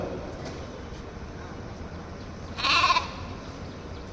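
A goat brought to a protest at a municipal office gives a single short, close bleat midway through, set against a steady background rumble of crowd noise.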